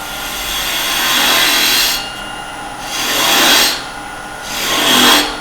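Wood lathe spinning near 2000 RPM while a 6mm carbide cutter shaves a small piece of wood, giving three loud close scraping passes that swell and ease with short quieter gaps between them.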